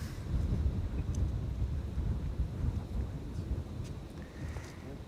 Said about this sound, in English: The wind isn't stopping yet, it's not slowing down, it's continuously blowing 15 to 20 knots.